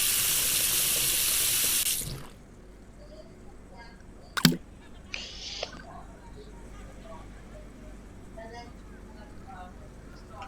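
Water tap running in a VR cooking simulator game, a loud steady rush for about two seconds that cuts off abruptly, followed by quieter room noise and a few sharp clicks.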